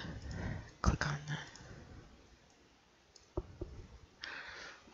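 Computer mouse clicks while configuring SSH on a router, a few sharp, close, faint clicks scattered among quiet background noise and soft breathy sounds.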